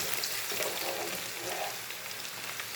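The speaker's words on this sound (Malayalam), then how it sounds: "ഇനി നമുക്ക് അതിൻ്റെ കൂടെ വെളുത്തുള്ളിയും കൂടെ ഇട്ട് കൊടുക്കാം. നമുക്കൊന്ന് ഇളക്കി കൊടുക്കാം നല്ലപോലെ." Garlic sizzles in hot oil with capsicum in a pan while being stirred for a burger capsicum roast, a steady soft frying hiss filling the whole stretch with no talk.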